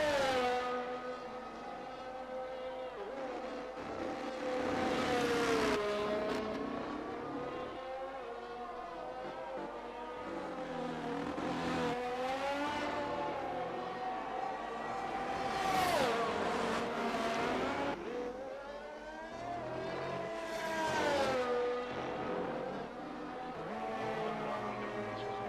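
Race cars lapping Imola in a racing video game: a continuous high engine whine that climbs and drops through gear changes, with brief tire squeals and passing surges, loud and steady throughout.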